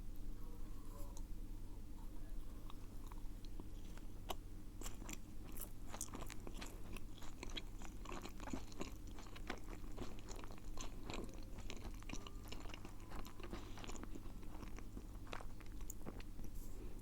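Close, quiet bites and chewing on chocolate marshmallow dagashi candy, with soft crunches and sticky mouth noises repeating irregularly throughout.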